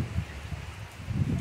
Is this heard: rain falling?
yes